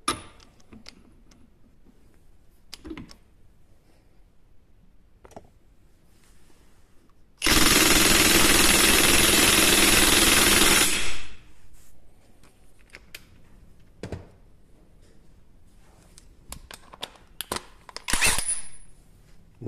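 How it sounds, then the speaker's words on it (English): A Ryobi One+ HP brushless high-torque impact driver runs in one loud, continuous burst of about three and a half seconds, with quiet clicks and handling noises before and after. "ovog high torque Ryobi 1 plus HP udarnog odvijača Brushless"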